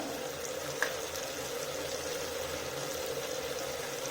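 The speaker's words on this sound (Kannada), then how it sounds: "ಇವಾಗ ಮಸಾಲೆ ಪೂರ್ತಿಯಾಗಿ ಕುದ್ದಿದೆ" Biryani masala spiced with chili powder and turmeric simmers in a pan, making a low, steady bubbling hiss with one faint tick near the start. The sound is quiet and close, with no talking.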